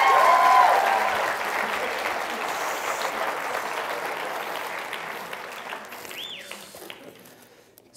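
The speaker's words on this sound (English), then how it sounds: "Round of applause for Thaddeus." Audience applause at a medical school follies show, a dense wash of clapping that starts loud and slowly tapers off over several seconds, with no one speaking over it.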